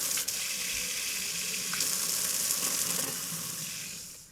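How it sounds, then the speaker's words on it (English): Water gushes steadily from a newly installed kitchen faucet into the sink, a loud continuous hiss that tapers off near the end, with no talk. "we've let the water flow for a little bit and made sure that the lines are nice and clear"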